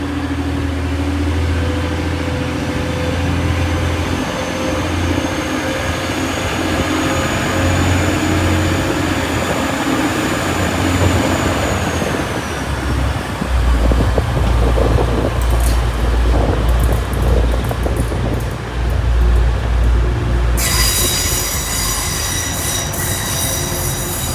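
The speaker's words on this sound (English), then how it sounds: "The delayed 1311 Transpennine Express service from Cleethorpes to Liverpool Lime Street, 185124 to Leeds" A Class 185 TransPennine Express diesel train runs at Sheffield station, with a loud sustained engine rumble and rolling wheels, a long high squeal, and a later burst of bright screeching wheel noise, close by.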